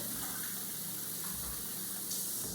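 Tap water runs steadily from a sink faucet as hands are washed with soap, a close, continuous hiss and splash with no pauses and no voices.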